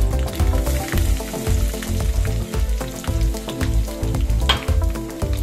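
Crushed garlic sizzles in hot oil, a steady crackling fry with repeated scraping and clinking strokes from stirring, heard up close without talk.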